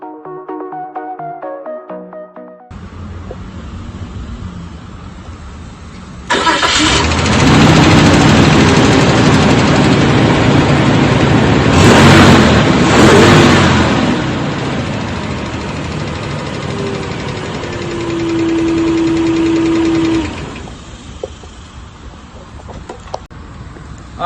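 A 2002 Nissan Xterra V6 engine cranks after a starter replacement, then catches and runs with a loud, close, rough idle that swells and settles, later dropping back before going quiet; no talking.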